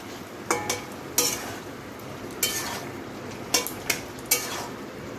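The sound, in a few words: stirring sugar into bottle gourd potato curry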